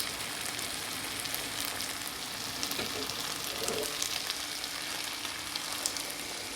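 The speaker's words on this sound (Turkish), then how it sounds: "Arpaları güzel kavurdum. Tereyağında, sıvı yağda, pirinçleri de ekledim." Orzo and rice toasting in butter and oil in a pot, a faint, steady, even sizzle crackling softly throughout without speech.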